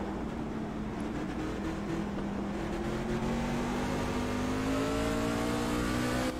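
Race truck engine at Martinsville in a racing video game, a continuous loud whine whose pitch climbs steadily as the throttle is worked on corner exit, with no voices.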